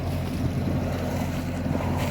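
A sailboat motoring under engine power along the coast in light wind gives a steady low engine drone mixed with wind rush and water noise, continuous and close with no talk.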